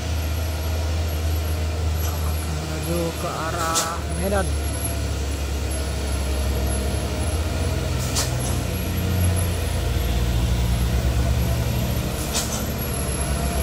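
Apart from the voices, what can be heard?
tanker truck driving uphill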